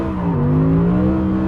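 Audi R8 GT with its V10 engine pulling hard at full throttle on a track, a loud continuous roar with rising pitch heard close from inside the car.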